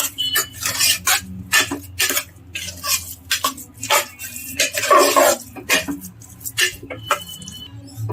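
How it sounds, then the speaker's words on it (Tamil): Cooked ven pongal is mashed in a pot with a metal utensil, giving repeated irregular scraping, knocking and squelching strokes at close range, with no talking. "இப்போ எடுத்து நம்ம பொங்கலை மேஷ் பண்ணிக்க போகிறோம்"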